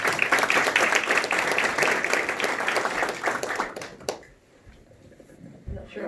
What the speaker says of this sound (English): Barbara, give her a round of applause.